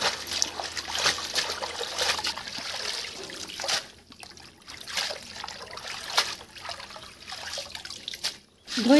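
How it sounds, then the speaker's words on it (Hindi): Kena saag leaves are rinsed in water by hand, giving close, continuous trickling and splashing with bursts of sloshing and brief pauses while someone handles the greens. "बतुरई भल भाव धोई नबा।"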